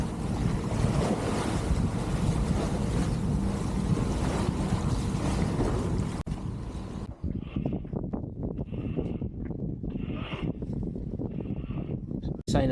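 A sailboat sailing along the south coast toward Salcombe in a slight sea, with constant wind buffeting and wave wash, then quieter hull and water sounds with occasional voices and creaks.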